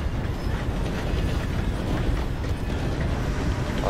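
A train in the Western game Red Dead Redemption 2 rumbles past as a steady, dense rolling roar with faint clatter, holding even and fairly close throughout with no voices.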